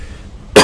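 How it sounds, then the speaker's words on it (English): A single sharp, loud cough erupts abruptly at the very end after near-silence, close to the microphone. "I'm sorry if I'm coughing a lot."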